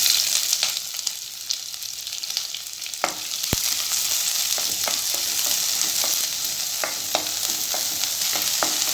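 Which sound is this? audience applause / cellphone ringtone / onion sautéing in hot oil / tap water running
onion sautéing in hot oil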